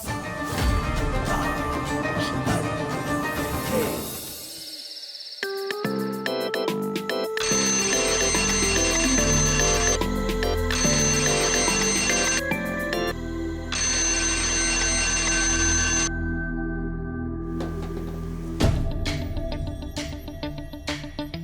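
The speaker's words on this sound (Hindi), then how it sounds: "सूरज तुमने ही 4 बजे का अलार्म लगाया था ना, चलो उठो और पढ़ाई करो" An alarm clock set for four in the morning rings in a domestic scene. A stuttering electronic ringtone repeats in bursts over background music, loud and close, with no speech.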